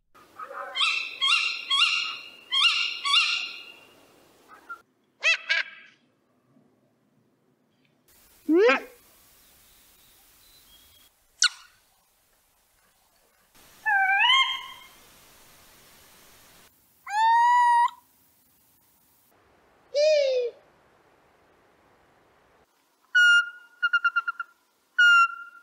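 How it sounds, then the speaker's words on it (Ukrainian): An owl gives a run of varied, unexpected calls: rapid chattering bursts, rising whistles, sharp squeals and short repeated hoots, separated by brief pauses, clear and fairly close with no talk. "навіть вищі згадані сови часом можуть видавати звуки, які від них ніяк не очікуєш"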